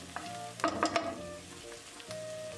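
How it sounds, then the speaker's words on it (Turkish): Small onions frying in a pan until they turn pink, a faint sizzle broken by a short burst of scraping stirring strokes, close by. "rengi dönüp pembeleşene kadar kavuruyorum"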